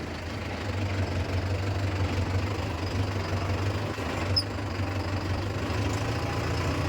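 A Mahindra Yuvo Tech+ 585 tractor engine running steadily while pulling a 42-blade rotavator through wet farmland, a loud, continuous low rumble with a constant drone and no pauses.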